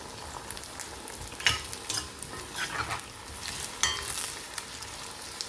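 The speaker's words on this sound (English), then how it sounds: "Fry them on high heat" Large pieces of eggplant fry in oil over high heat, a steady hiss and crackle of sizzling with occasional brighter spatters and stirring clinks, no voices.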